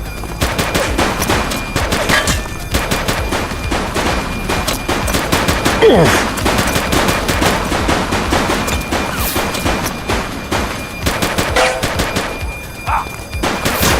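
Dense, sustained gunfire from a police shooter game set in a city precinct, rapid overlapping bursts and single shots firing continuously for the whole stretch, loud and close with no pause.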